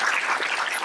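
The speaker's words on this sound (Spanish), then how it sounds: "Todos nosotros nos merecemos ese aplauso." Audience applause at a Spanish-language Parkinson's conference gives a brief, dense wash of clapping, steady and fairly loud throughout its short length.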